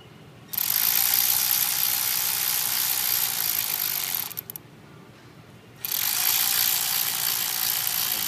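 A ratchet spinning bolts down on a Ford 6.0 Powerstroke diesel engine gives a loud, close, continuous buzzing click that runs for several seconds, breaks off briefly, then starts again.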